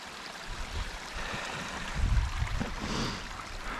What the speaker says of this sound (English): We got a little footbridge here, decent flow of water.